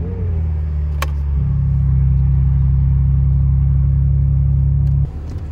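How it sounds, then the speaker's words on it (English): A 2023 BMW M2 G87 fires up from cold with a brief starter whir, then a loud, deep rumble that swells and holds at a steady high idle close by before easing off. "let me give it a little cold start now"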